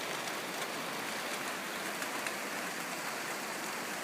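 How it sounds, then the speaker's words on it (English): Steady rain falls across a forest garden in early summer, a dense continuous hiss of drops on leaves and ground with no voices, even and unbroken throughout. "Finally getting some rain."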